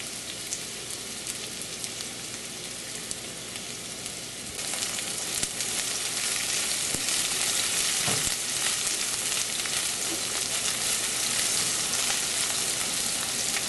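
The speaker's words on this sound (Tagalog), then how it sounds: "Uunahin natin yung sibuyas. Lutuin lang natin ito ng ilang segundo" Chopped onion sizzles in a hot oiled pan, the first step of Filipino ginataang tilapia. A steady, loud, dense crackle holds throughout and grows a little louder partway through.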